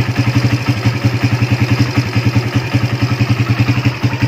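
A 2005 Kawasaki Barako 175 motorcycle idles after 15 years of use, a steady loud thumping single-cylinder putter with an even, rapid pulse and light mechanical clatter, close up and alone.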